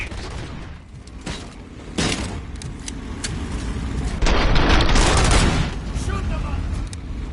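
Gunfire in the RoboCop Rogue City video game: repeated loud shots and bursts, with a denser, heavier volley near the end, layered over game background noise.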